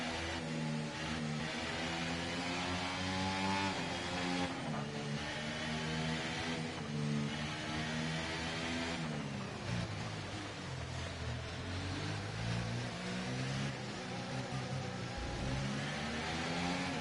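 An F1 car engine in the F1 24 racing game revs up through the gears continuously, a loud, steady high-pitched whine rising and dropping with each shift, with no talk.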